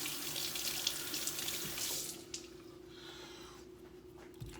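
Cold water runs from a kitchen tap onto an onion being rinsed by hand, a steady close hiss that splashes louder at first, then softens as the stream shifts.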